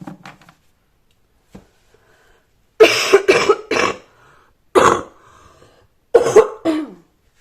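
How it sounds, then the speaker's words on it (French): A person recovering from bronchitis coughs close up in several bursts, some doubled, separated by quiet gaps, with a throat clear near the start. "Excusez-moi si je tousse un peu."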